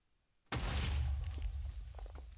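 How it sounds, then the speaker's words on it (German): A block explodes in modded Minecraft: a sudden booming blast erupts, then a rumbling roar that slowly fades, with scattered crackles. "Ich wusste, es explodiert."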